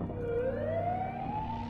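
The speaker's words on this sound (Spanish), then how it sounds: "Cuando llegó la ambulancia" Ambulance siren wailing steadily with a slowly rising pitch sweep, loud and close, with no voices over it.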